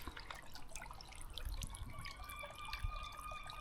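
Water trickles and drips in a newly built stone garden water feature, a close patter of drops over a thin steady flow with a faint tonal ring in the background.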